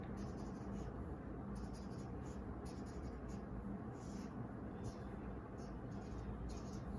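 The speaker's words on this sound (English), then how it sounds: "So you will draw a simplified circuit." A pen drawing a simplified circuit diagram on paper for a physics lesson on current and resistance, producing a steady close scratching and scribbling over a constant background hiss.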